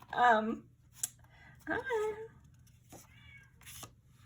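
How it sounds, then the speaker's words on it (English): A cat meows twice, loud and close, with drawn-out wavering cries separated by a short pause, followed by a few softer clicks and rustles in an otherwise quiet room. "let me get this cat"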